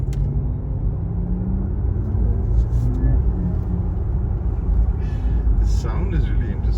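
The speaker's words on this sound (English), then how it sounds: "the Porsche has this sound that it makes artificially inside the car, where it sounds like a jet engine when you're driving the car" A Porsche Taycan electric car plays its artificial jet-like interior drive sound while moving: a continuous low, rumbling hum with steady road noise that keeps an even level throughout.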